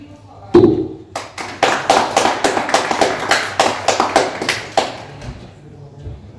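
A thud, then a round of sharp, moderately paced audience claps at a tech talk that build and fade over several seconds, with a voice briefly at the start.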